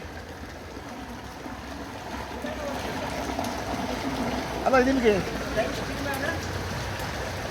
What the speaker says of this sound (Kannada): ಇಡೀ ರಸ್ತೆಯ ನೀರೆಲ್ಲ ಒಂದು ಕಡೆ ಹೋಗ್ತಾ ಇದೆ